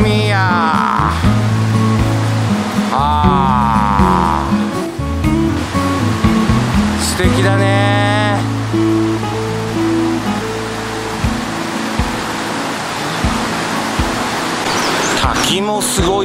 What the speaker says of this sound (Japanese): これもね、表情がね、全然違う滝だぜ